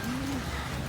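A single soft pigeon coo, brief and low, over a steady noisy background.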